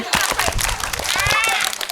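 Schoolchildren clap through the tepuk lingkaran routine at a school assembly, a rapid rhythmic patter of many hands close by, with voices chanting and shouting over the clapping.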